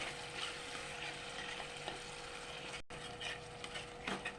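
Aar fish curry masala with yogurt is stir-fried in a pan, giving a faint, steady sizzle with soft spatula scrapes and stirring taps nearby.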